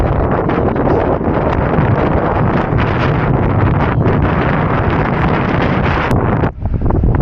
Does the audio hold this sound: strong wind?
yes